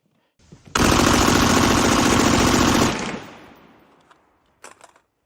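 A BRN-4 HK416 clone rifle with a 10.4-inch barrel on a sustained burst of automatic fire, a loud close roar of rapid shots lasting about two seconds, then echoing decay and a few faint clicks.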